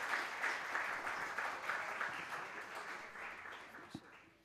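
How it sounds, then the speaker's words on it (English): A conference audience applauds its panelists at a civil society forum in Tirana. The clapping is soft and distant, a steady wash of many hands that slowly fades over a few seconds. "I invite you to play a round of applause for our panelists, and Hedwig is going to close"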